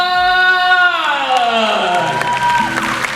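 A fan-meeting audience cheers and applauds for Jun.K of 2PM, a loud and dense crowd roar lasting the whole moment while an amplified voice calls out over it.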